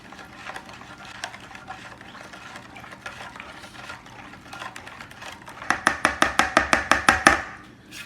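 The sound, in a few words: stirring a marinade mixture with bay leaf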